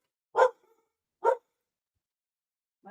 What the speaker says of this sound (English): The dogs want some.